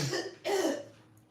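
A person coughs twice, a short rough cough followed by a fuller hacking one, close by with no talking.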